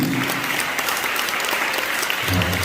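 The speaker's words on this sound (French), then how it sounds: "on va l'acclamer, on va lui dire merci" A Sunday mass congregation in Tiapoum claps warmly in sustained, dense applause that swells again near the end, with no voices on top.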